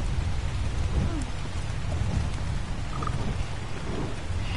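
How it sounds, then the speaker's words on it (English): Hard rain pours steadily with rolling thunder in Ark: Survival Evolved, a dense continuous hiss over a low rumble, loud and unbroken throughout. "the rain was never, like, this hard"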